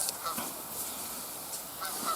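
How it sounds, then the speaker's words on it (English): Geese honk repeatedly at a moderate distance, several overlapping calls over a steady outdoor hiss, with no one talking. "There's a couple geese there."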